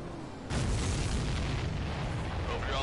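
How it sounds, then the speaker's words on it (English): A supply ship explodes in the Ace Combat 7 video game: a sudden loud boom hits at half a second and becomes a sustained, dense roar of rumbling blasts and debris that holds steady to the end. "see that explosion? Looks like that's one of them down."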